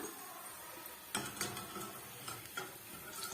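Crisp fried urad dal vadagam lifted from a pan of hot oil, a few metallic scrapes and clinks of a ladle over a soft steady sizzle, close and fairly quiet.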